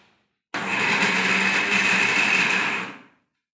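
A mixer grinder starts abruptly and whirs at a steady high pitch for about two and a half seconds, grinding ingredients into a fine paste, then winds down into silence, no talk.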